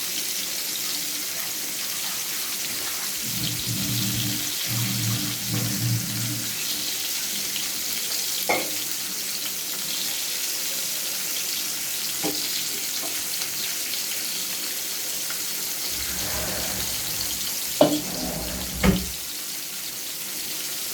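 Fish frying in a pan on a stove gives a low, steady sizzle, interrupted twice by bursts of running water and a few clanks of utensils, with no talking.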